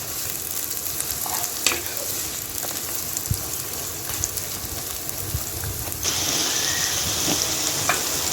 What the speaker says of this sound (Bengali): এখন পেঁয়াজটা কিছুক্ষণ তেলে ভেজে নিব।